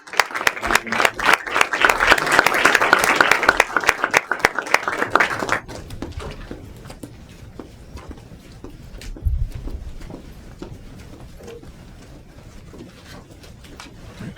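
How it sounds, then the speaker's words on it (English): An audience at a water resiliency forum breaks into loud, dense applause for a speaker, which thins abruptly after about five seconds into scattered claps and quiet room noise with a few soft knocks. "Let's give Chris another round of applause."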